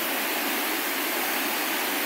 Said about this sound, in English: You hear the water there, guys?